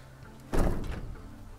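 Greenhouse door with welded double handles being handled: a single muffled thunk of the door moving, followed by a short rattling decay, close and alone.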